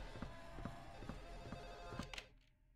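An old-style telephone bell rings in Silent Hill 4, repeating in an even pulse about every half second over a low hum. The sound stays fairly quiet and cuts off near the end.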